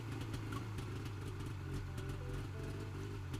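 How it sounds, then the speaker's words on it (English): A video-game motorcycle engine gives a steady, low, throbbing rumble at an even level throughout, with no clear rev or rise. "I check my protective gear and turn the throttle. The engine roars to life."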